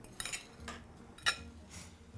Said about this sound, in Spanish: Y aquí voy a darle vueltas con un tenedor